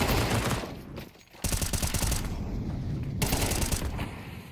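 Rapid bursts of AK-47 and pistol fire ring out during a competitive shooter video game match, loud and dense, with a brief lull before the shooting resumes in sustained volleys.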